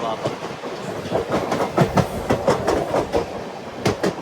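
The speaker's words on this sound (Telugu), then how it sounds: "మన పక్కన అయితే ఒక ట్రైన్ పోతుంది." Another train passes close beside the Charminar Express, a loud rushing rumble with rapid, irregular clattering of wheels and carriages heard from on board.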